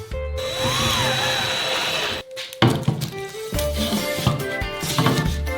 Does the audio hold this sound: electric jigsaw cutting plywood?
yes